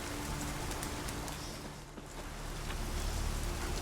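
Steady rain hisses across a game world in The Witcher 3, a dense, even wash of falling drops that stays constant and fairly loud throughout, with no voices.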